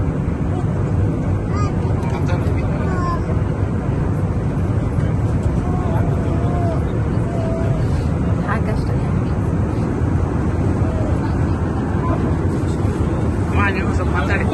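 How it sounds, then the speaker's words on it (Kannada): Steady, loud broadband roar of an airliner cabin in flight fills the whole stretch, with people chatting faintly underneath. "ನಾವು ಒಳ್ಳೆ ಫ್ಲೈಟ್ ಎಲ್ಲ ಹತ್ತಿದ್ದೀವಿ."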